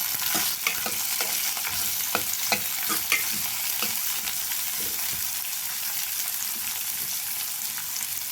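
Curry leaves and vegetables such as beans and carrots sautéing in hot oil, a steady close crackling sizzle with intermittent scrapes of stirring throughout.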